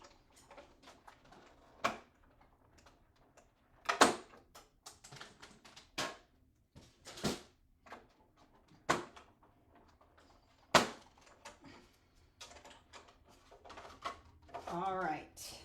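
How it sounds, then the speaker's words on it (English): Manual die cutting machine running a card through to cut a window, heard as a series of sharp clicks and clunks at irregular intervals with faint background noise. "I'm going to run it through my die cutting machine over here and cut that window out of it"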